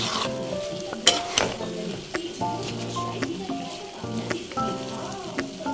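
Aloe vera sizzles and crackles loudly in hot homemade hair oil, a dense continuous frying hiss with popping bursts, close up.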